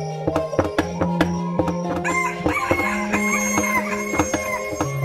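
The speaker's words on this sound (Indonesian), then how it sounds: "Memukul alu ke lesung hingga membuat ayam jantan berkokok." Rooster crowing over repeated wooden pestle thumps on a rice mortar, the crow ringing out above the sharp rhythmic knocks in a busy layered scene.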